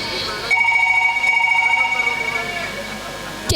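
A telephone ringing with a steady electronic tone that sustains for about three seconds before cutting off, with a click at the end.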